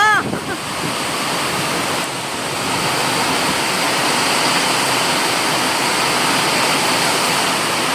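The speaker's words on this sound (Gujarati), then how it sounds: "બહુ વરસાદ આવ્યો પણ" Heavy rain pours in a dense, continuous roar that stays loud and even, with a brief knock at the start and no talking.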